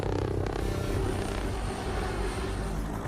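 An RAH-66 Comanche helicopter's five-blade rotor gives off a smooth, continuous whir with a low rumble, fairly loud and steady, without a distinct chopping beat.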